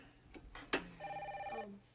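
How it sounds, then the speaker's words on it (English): Telephone in a soap-opera home scene rings with a steady electronic trill lasting under a second, preceded by brief rustling and knocks; moderately loud against a quiet room, with no talk over it. "Yeah, your phone's ringing."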